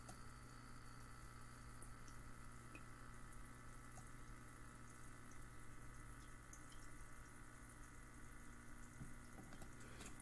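Small indoor tabletop fountain with water flowing steadily, a faint continuous trickle and splash under a low hum, no talking.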